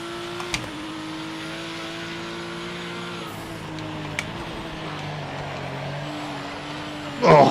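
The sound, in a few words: GTE race car engine in racing video game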